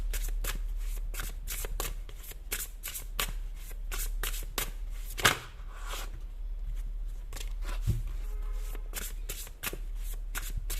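Tarot cards shuffled by hand in quick, repeated riffling bursts, crisp and close, with a few brief pauses and small handling rustles between runs.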